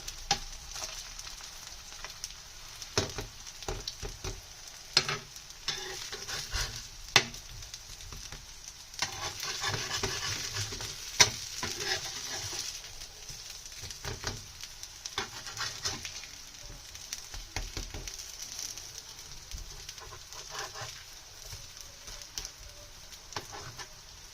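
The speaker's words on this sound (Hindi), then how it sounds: "साइड से जो वेज कबाब हैं वो अच्छे से फ्राई हो चुके हैं" Mixed vegetable kababs sizzle and fry in a pan over a low flame, giving a steady, soft crackling hiss with scattered pops throughout.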